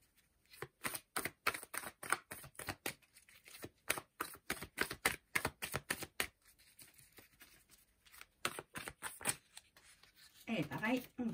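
Cards are handled and drawn from a deck: rapid, crisp riffling and snapping in quick bursts, close and dry, with a pause and then softer rustling at the end.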